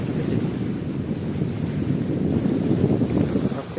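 Sea waves at Malpe beach: a steady broad roar of surf mixed with wind buffeting the microphone, continuous and fairly loud throughout.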